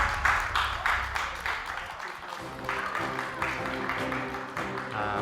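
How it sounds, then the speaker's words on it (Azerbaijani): Applause from a studio audience at an Azerbaijani television show rolls on steadily, a dense wash of clapping hands mixed with music and a bit of talk, fairly loud throughout. "Alqışlayaq."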